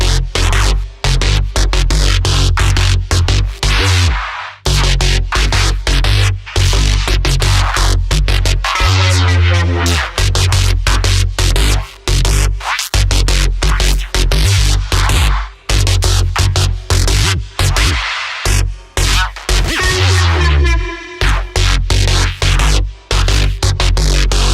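Aggressive neuro bass synth for drum and bass, loud and dense with rapid choppy rhythmic cuts, growling modulated sweeps and a constant heavy low end, with no voices.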